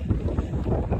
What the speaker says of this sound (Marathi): कसला वारा सुटला इथं